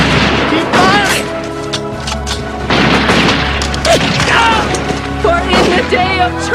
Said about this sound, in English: Fire! Fire! Keep firing!